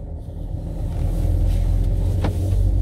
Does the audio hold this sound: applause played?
no